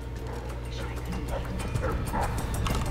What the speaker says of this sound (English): Oh, that's dogs.